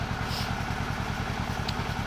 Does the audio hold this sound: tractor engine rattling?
yes